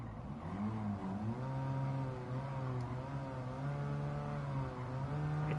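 A hybrid electric race car in a racing video game drones with a buzzy, steady harmonic engine note that rises and dips slightly as the car accelerates and corners, fairly quiet in the mix.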